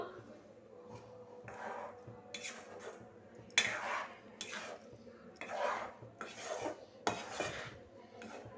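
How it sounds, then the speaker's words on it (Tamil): Ground coconut paste is stirred in a pan over a medium flame, giving soft irregular scraping and rubbing strokes of a utensil against metal, quiet and close with a low background hum. "இதை அப்படியே மீடியம் ஃப்ளேமில் வச்சு நல்லா கிளறி கொடுத்துக்குவோம்"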